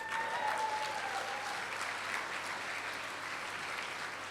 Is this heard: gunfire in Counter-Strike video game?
no